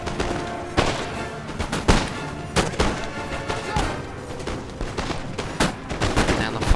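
Musket volleys crackling across a Napoleon Total War battle between British and elite Austrian troops, dense repeated sharp shots and rolling bursts over a constant battlefield din.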